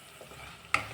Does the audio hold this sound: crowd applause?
no